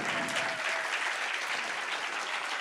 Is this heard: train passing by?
no